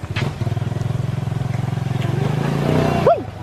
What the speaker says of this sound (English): here comes another bike.